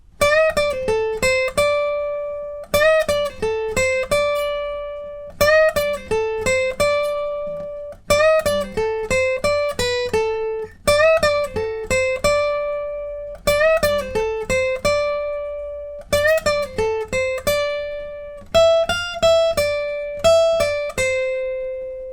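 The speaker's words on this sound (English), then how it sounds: "in total, the full solo will sound like this" Guitar solo played alone on clean electric guitar, a repeating melodic phrase of plucked notes in steady cycles, clear and close, with no voices.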